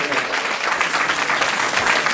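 Lively audience clapping at a Janmashtami drama performance, a short dense burst of loud applause with some crowd voices mixed in.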